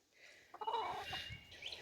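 Farm hens and a rooster clucking and calling close by, a steady run of overlapping fowl vocalizations with a few sharper squawks, heard alone without talk.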